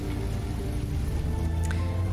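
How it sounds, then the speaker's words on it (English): Pouring rain in the video game Heavy Rain, heard as a steady, dense wash of noise over a low rumble as a car drives off into the city, continuous and fairly loud throughout. "now we're driving off into the city in the pouring rain"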